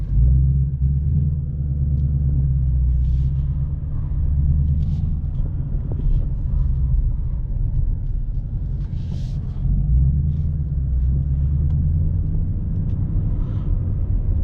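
A 2021 Ford Mustang Mach 1 V8 with a 6-speed manual rumbles steadily while driving, a deep, loud, sustained engine drone with slight swells in intensity and faint wind noise on top.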